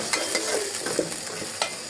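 Onion and spice paste frying in a pan while being stirred, with a steady sizzle and a few scraping strokes of the spoon close by, no voices.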